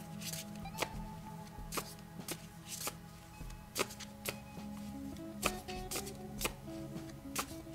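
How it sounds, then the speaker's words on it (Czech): Tarot cards are shuffled by hand, giving a close, quiet series of crisp riffling snaps and soft slides repeating at irregular intervals. "teď si tady zamícháme karty"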